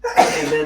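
Someone lets out a single quick sneeze close to the microphone, a brief sharp burst that fades within a fraction of a second.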